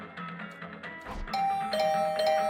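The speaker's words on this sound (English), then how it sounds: "I was brought back to the land of the living by the unrelenting ringing of my doorbell." A doorbell chimes repeatedly in the video game Hundred Line Last Defense Academy, clear tonal dings ringing over soft background game music, fairly loud and insistent.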